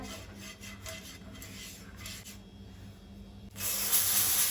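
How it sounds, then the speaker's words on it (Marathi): Oil spread across a hot iron tawa on a gas stove before pouring urad dal dosa batter, a soft rubbing hiss that swells into a loud, steady sizzle near the end. "गॅसार हांवें तवो तापत दवरला। तर आमी पयलीं तेल लावन घेवया।"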